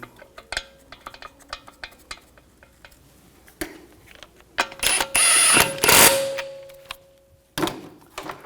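A ratchet socket clicks as lug bolts are threaded onto the wheel of a 2011-2018 Volkswagen Jetta TDI wagon. Sparse close metallic ticks build into louder ratcheting bursts near the end.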